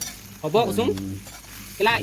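Steady hissing sizzle of pork fat frying in a pan, with a voice talking over it in short phrases.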